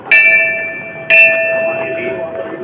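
A temple bell rung at Golju temple sounds twice: two bright metallic strikes about a second apart, each with a long ringing hum that carries over a soft murmur of the surroundings.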